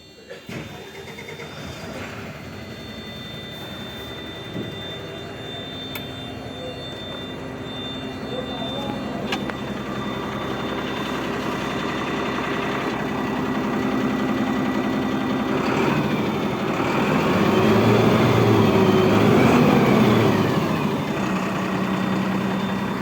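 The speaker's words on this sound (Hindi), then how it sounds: "अभी इंजन को स्टार्ट कर इंजन के साउंड सुनाएंगे" A BharatBenz 4832R BS6 OBD2 16-wheeler truck with a 34–35 ton payload cranks over and fires up close by, then settles into a steady idle that grows fuller and louder over time.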